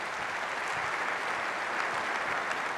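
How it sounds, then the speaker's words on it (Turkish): Sustained applause from a large audience honouring defense industry engineers at a formal ceremony, a steady dense wash of clapping that stays even and moderately distant throughout. "Bir kez daha kuvvetli bir alkış rica ediyoruz."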